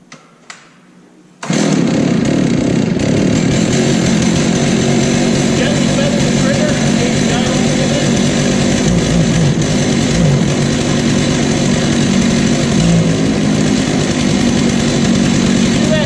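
A chainsaw engine catches and runs steadily after starting with the choke pushed back in, a loud continuous buzzing drone that fills the whole stretch following a brief quiet moment.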